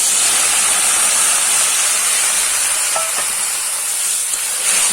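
Water poured into a frying tomato masala for a moong dal curry, producing a loud, continuous rushing hiss and sizzle that holds steady for several seconds, with no talking.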